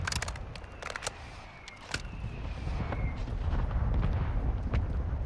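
Artillery fire mission striking a marked target in Call of Duty: Modern Warfare II, with sharp cracks of impact and a rolling, rumbling roar of explosions that builds and stays heavy to the end.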